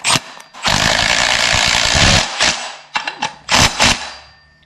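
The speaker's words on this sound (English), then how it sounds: "I'm going to use power tools on this one to try to speed it up." A power tool whirs loudly in close, sustained bursts while fabricating an AC compressor bracket for an LS engine swap, starting and stopping several times with short pauses between runs.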